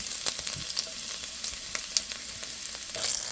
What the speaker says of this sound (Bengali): তেল গরম হয়ে গেছে, তারপরে দিয়ে দেব রসুন কুচি।